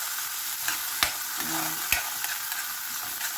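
Tomato, onion and chili sizzle steadily in a hot pan, with a spoon scraping and stirring in a few sharp clicks over the continuous close frying hiss.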